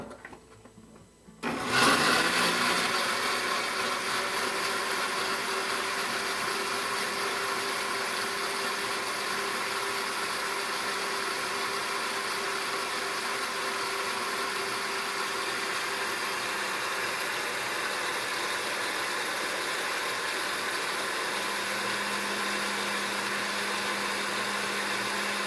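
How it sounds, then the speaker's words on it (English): A brand-new blender whirs through birria ingredients, starting with a sudden loud roar after a moment of quiet and then holding a steady, dense motor hum for the rest of the run, with no voices. "Then I'm going to close up my blender. This is a new blender I just got, so it's kind of tight. And we're going to blend it up."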